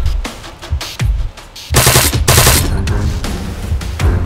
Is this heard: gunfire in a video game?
yes